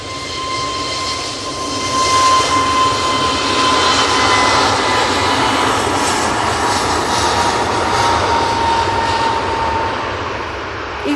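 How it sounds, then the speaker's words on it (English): An easyJet Airbus A321neo begins its takeoff roll at Manchester Airport, the jet roar swelling to a loud peak midway with a thin tonal whine threaded through, then tapering slightly as it continues down the runway, unaccompanied by voices. "A321neo on the roll."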